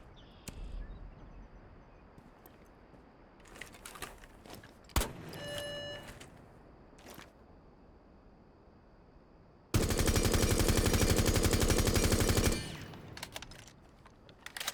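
In Rainbow Six Siege, a rifle fitted with a compensator fires a sustained full-auto burst lasting about three seconds, dense and loud, after scattered clicks, single knocks and a brief reload-like clatter.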